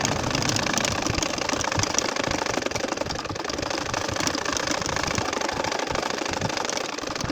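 A sewing machine stitches a nakshi kantha design in a fast, steady mechanical whir that runs unbroken, close and alone with no voices.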